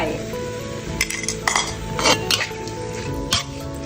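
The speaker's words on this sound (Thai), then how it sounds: "ผัดให้เข้ากัน" Beef stir-fried in a pan with pounded chili and garlic for spicy basil beef: metal spatula clinks and scrapes against the pan over a steady low sizzle, several sharp clatters standing out.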